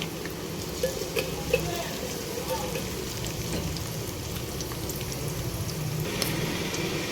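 Dried red chillies, torn into small pieces, frying in hot oil for a rice tempering, giving a steady crackling sizzle throughout with a few brief clinks, under a faint background voice.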